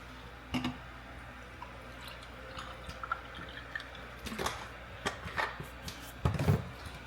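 A small splash of milk poured into a cup of Starbucks dark roast coffee, heard as a few short, soft liquid drips and pours scattered through a quiet kitchen, with light clinks near the end.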